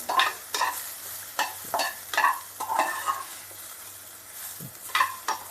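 Whole spices, bay leaf and black peppercorns, sizzle in hot oil in a pan for bajra khichdi, with a soft frying hiss broken by repeated scraping strokes of a stirring spoon at close range.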